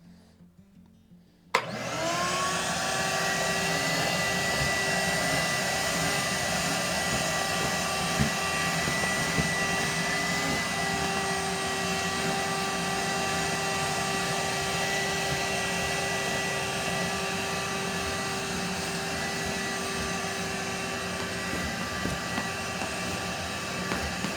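An air blower drying water from a tanned mule deer hide starts abruptly and runs as a loud, steady high-pitched whine and rush that continues unbroken, close, with no talking.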